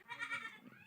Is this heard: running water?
no